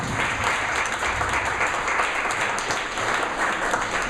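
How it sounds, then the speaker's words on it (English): An audience at a social media and public relations panel discussion breaks into sustained applause, steady dense clapping that fills the room for several seconds without a break. "Let's give a round of applause for John in the green."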